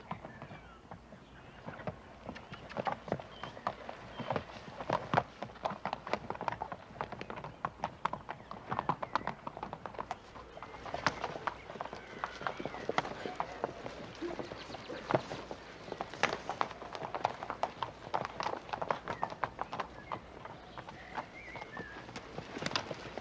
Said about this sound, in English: That's one of the horses.